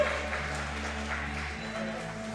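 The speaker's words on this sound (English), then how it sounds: "Give him a round of applause" Distant audience applause rolls steadily through a powerlifting hall at a championship meet, greeting a sumo deadlifter before his third attempt at 330 kilos, over a low electrical hum.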